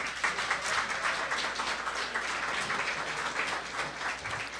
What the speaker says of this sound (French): C'est bien évidemment Madame Magali Broder que je vous demande d'applaudir, s'il vous plaît.